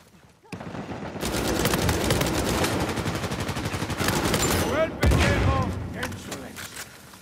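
Rapid gunfire in an Uncharted 4 multiplayer match: dense bursts of overlapping automatic shots, loud and sustained for several seconds with a short break, over game effects and a voice talking.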